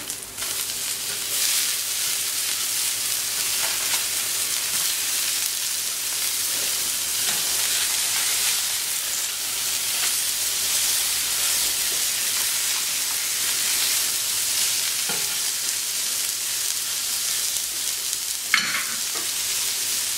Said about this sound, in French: Et on va retourner nos saumons.